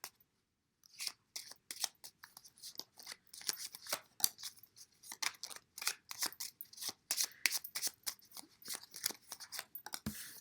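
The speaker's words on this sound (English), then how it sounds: "Let's take a few Lenormand cards to clarify." Lenormand cards are shuffled and drawn close up, a rapid series of crisp riffling snaps and slaps after a second of quiet, irregular and dense throughout.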